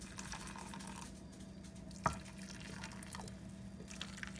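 Water from a microwave-heated cup poured over dog kibble in a bowl, a soft steady trickle with one brief sharp drip in the middle, close and quiet.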